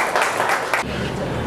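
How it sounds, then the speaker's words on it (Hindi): A gym event crowd claps to welcome a guest, a loud brief burst of applause that drops off abruptly partway through, leaving a lower murmur. "ज़ोरदार तालियां इनके लिए भी"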